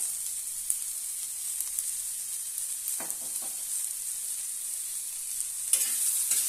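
Cumin and salt sauté in a pan of roasted tomatoes and chillies for tomato thecha, giving a faint, steady sizzle with a few soft stirring scrapes.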